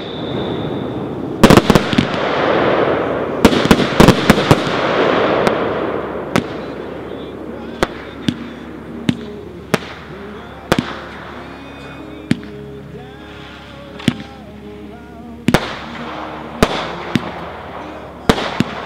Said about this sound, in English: 100-shot fan purple and gold wave comets.